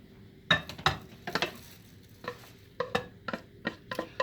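A spoon stirs ground beef, rice and soup together in a bowl for stuffed green bell peppers, giving quiet, irregular scrapes and clinks close by with nothing else in the background.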